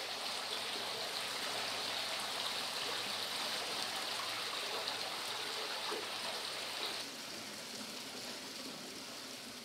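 Water streams into an underground pond inside a cave in the Guiana Highlands, a steady, soft rushing trickle that continues throughout and eases slightly near the end.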